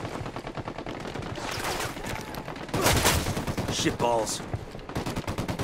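Rapid automatic gunfire in the video game Ghost Recon Wildlands rattles steadily throughout, joined by heavier louder shots midway, with a player's voice cursing briefly over the shooting.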